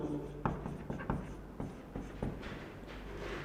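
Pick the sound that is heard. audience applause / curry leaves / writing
writing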